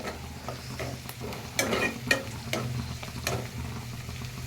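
Gongura leaves and curry leaves frying in a pot of chicken curry give a steady, close sizzle, with a few sharp stirring scrapes and crackles breaking through.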